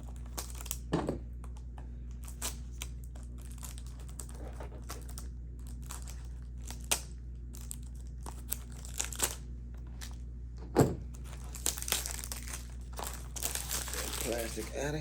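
Plastic wrap is peeled and crumpled off a boxed fragrance bottle, with close crinkling and rustling bursts alongside handling taps, under a person speaking.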